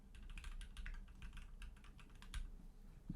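Steady, rapid typing on a computer keyboard, close and fairly quiet, with an even run of light key clicks and no voices.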